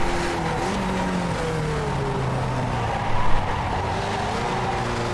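A Skip Barber race car in iRacing at Long Beach, its engine note dropping in pitch through several downshifts, with a short louder burst partway through.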